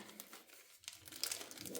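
Quiet crinkling of an empty paper or plastic seed packet being handled, a few soft rustles building to brisker crackles near the end.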